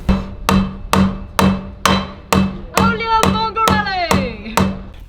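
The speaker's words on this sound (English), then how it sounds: "did you get the hammer and hammer it back in?" Hammer blows ring out as a part is knocked back into place on a rally car, about a dozen evenly spaced, loud metallic strikes close by, with a voice speaking over the later hits.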